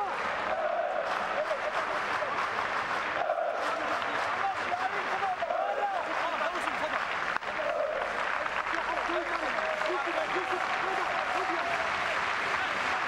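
A football stadium crowd clapping in rhythm during a Helsingborgs IF match against FC Zestafoni, steady massed applause throughout while a commentator talks over it.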